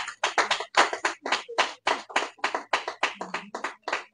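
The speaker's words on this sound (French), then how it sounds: "Acclamez très fort pour la gloire de notre Dieu" A church congregation claps loudly in rhythmic bursts of many hands, steady and close, with no talking over it.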